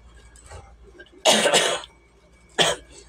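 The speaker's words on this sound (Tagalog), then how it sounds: "Sinumpong ako ng ubo." Two harsh coughs ring out close by, the first longer and doubled, the second short, with quiet breathing and faint noise in between.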